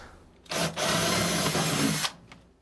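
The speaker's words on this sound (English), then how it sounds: "we'll go ahead and begin to drill our pilot holes" A power drill bores a pilot hole into a wooden pull-out pantry part, a loud close whir lasting about a second and a half after a brief start, then cutting off.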